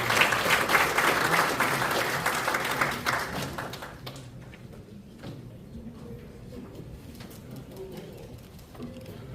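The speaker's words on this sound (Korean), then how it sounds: "마강래 교수님께 큰 박수 부탁드리겠습니다." Audience applause at a Korean railway anniversary forum, clapping that is strong at first, then quickly tapers to scattered claps and room noise.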